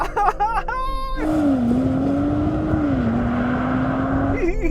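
A BMW M340i and an Audi RS4 launch off the line in a drag race, heard from inside one car as the engine revs climb, shift and pull in a loud, close drone.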